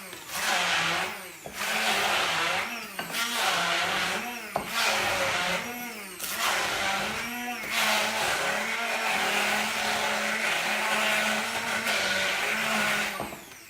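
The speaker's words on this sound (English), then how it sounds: "give this a try and see whether we get anywhere with the blending" Blender whirring through homemade pesto, a loud continuous motor roar with repeated short pauses and restarts as the mixture catches and spins, with no talking over it.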